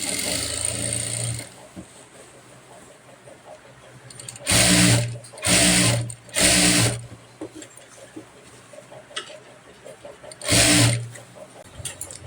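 Sewing machine stitching a Rajputi suit kurti, with four loud bursts of whirring stitching, the longer runs near the start and one more near the end, separated by quiet pauses.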